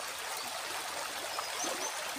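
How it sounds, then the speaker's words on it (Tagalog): A river flows near farmland where laundry is washed, giving a steady, even rush of water that is moderately loud and continuous throughout with no voices. "Dito na lang siya naglaba sa ilog kasi malapit lang ang ilog dito sa ating lupa."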